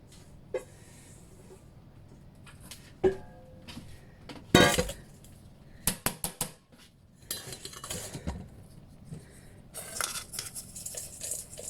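A bowl handled on a kitchen counter with utensils, scattered sharp clinks and clatters of dishes and cutlery, close and intermittent with quiet gaps.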